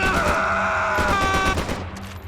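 Rapid gunfire in Max Payne 3, a dense fusillade of shots crackling close and loud, mixed with game music and groans, fading near the end.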